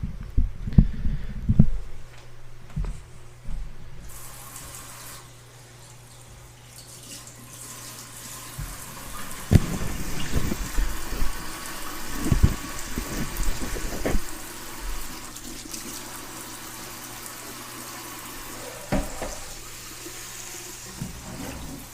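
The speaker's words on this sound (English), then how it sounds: "I've just got it on a lukewarm water setting. I'm giving it a good spray" Lukewarm water sprays over Vanda orchids growing in pots indoors, a continuous hissing stream with some louder splashing bursts and pauses.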